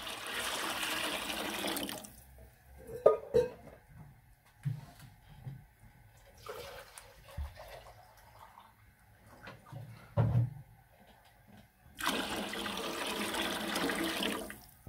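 Water gushes and splashes into a cooking pot in two loud pours of 2.25 litres for chicken pulao, separated by quieter clinks and handling noises.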